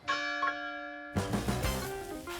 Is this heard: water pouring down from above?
no